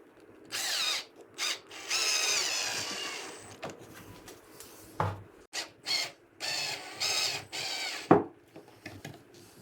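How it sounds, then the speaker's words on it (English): Drilling pocket holes into a 2x6 board for a shop stool, with a power drill whirring in several short bursts between pauses, close and moderately loud, no talking. "I am going to run a cross support on each of these as well. That'll also be pocket holed and glued."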